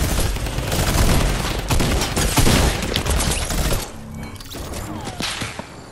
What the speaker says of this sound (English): One of them almost sniped me again.